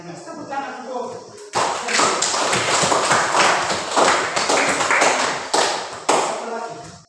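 A classroom audience breaks into dense, steady applause that starts abruptly after a brief quieter stretch and carries on loudly for several seconds.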